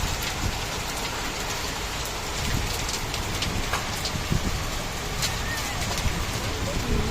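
Hail pounds steadily on hard surfaces outdoors during a rainstorm, a dense, continuous clatter of ice pellets that holds for several seconds, with scattered louder impacts standing out.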